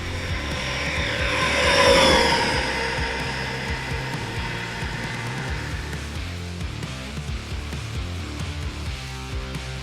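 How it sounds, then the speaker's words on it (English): A Team Corally Skeeter XL4S RC monster truck accelerates at full throttle, a loud rising motor whine that peaks early and then recedes into a steady, fainter drone, with no talking. "Full throttle right off the bat."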